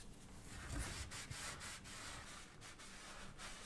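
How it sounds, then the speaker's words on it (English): Small piece of sandpaper abrading the end of a plastic cable duct before sealing in an HV substation, a steady close scratchy rubbing that runs throughout with faint pulses of strokes. "use a small piece of sandpaper to abrade the first 20 to 30 millimeters of the duct to further improve sealant adhesion"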